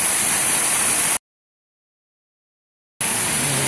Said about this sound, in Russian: Здесь прям целый водопад.